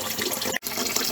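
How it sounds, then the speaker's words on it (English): Tap water pours steadily into a bowl of basmati rice being rinsed in a kitchen sink, a close, even splashing rush with one brief break. "So I'm going to wash this rice until the water runs clear"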